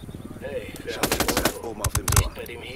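Sniper rifle fire in the video game Ghost Recon Wildlands: a burst of sharp, loud shots around the middle, followed by a quick cluster of heavier cracks, all over a busy game soundscape with a faint voice.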